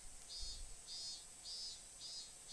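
Cicadas in the Higurashi video game chirp in a faint, steady pulsing drone, each shrill burst repeating about every half second with no talking.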